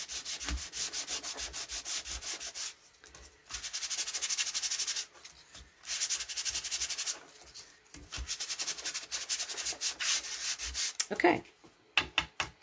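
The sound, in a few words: sanding cardstock to reveal color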